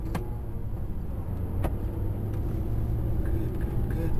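Onboard cabin noise in an Audi R8 lapping Thruxton circuit: a steady low engine and road rumble fills the cabin throughout, with a couple of brief sharp clicks, and no talk over it.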